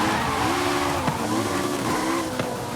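A car drifts sideways in Forza Horizon 5, with a steady engine drone and a squealing tire tone sliding up and down throughout, loud and close.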